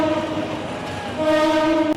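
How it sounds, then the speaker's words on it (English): Train rolling past a market separated from the tracks by metal bars, sounding a sustained multi-tone horn over a rumbling rail noise, loud and close, with no talk. "And there's a train."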